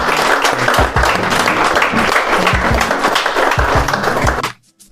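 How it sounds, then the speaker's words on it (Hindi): Audience at a college-organized industrial visit event gives a loud round of applause for industry management and founders, dense sustained clapping close by that cuts off abruptly near the end. "हम लोग एक बार जोरदार ताली बजाएं"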